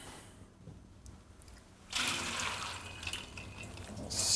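Soaked black beans being strained, with water splashing and draining steadily through a strainer; a quiet trickle gives way to a louder, continuous rush partway through.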